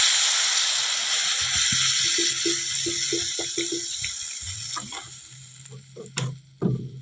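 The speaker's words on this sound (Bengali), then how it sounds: "এবারে জল দেব।" Water poured into a pan of sizzling vegetable curry, with loud continuous frying hiss fading as the water goes in. Stirring scrapes and a few clinks follow near the end.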